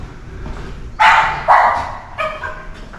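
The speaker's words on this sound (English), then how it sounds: "My dog's barking, so I guess I'll go in there." A dog barks inside an apartment in Foshan, China: a few loud, sharp barks come close together, then smaller yips follow over a low background hum.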